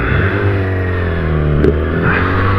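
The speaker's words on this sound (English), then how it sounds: "this is the bike that I'm riding at the moment. Is a Yamaha R6 2007 model." A 2007 Yamaha R6 sport motorcycle engine hums steadily at close range while riding, a constant low drone with wind rush layered over it.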